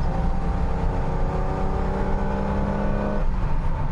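A recently restored BMW Z1 sports car engine runs and revs steadily, close and loud, holding a firm tone before the pitch drops briefly near the end.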